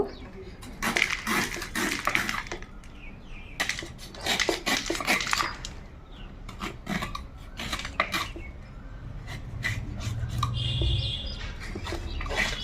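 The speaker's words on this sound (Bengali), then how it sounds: "কাঁঠালটা প্রথমে ভালো করে ছুলে নেব।" A knife peels and cuts a jackfruit on a plate or board, making irregular clicks, scrapes and chops at close range, with faint background noises in between.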